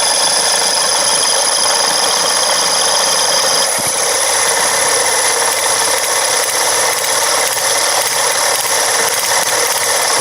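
A motor-driven flywheel rig runs at raised power, giving a steady broadband whirring hum with a high whine, constant and fairly loud throughout with no talk.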